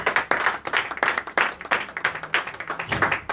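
A church congregation applauding in praise of Jesus Christ, a dense, rhythmic burst of many hands clapping in a steady pulse, loud and close throughout.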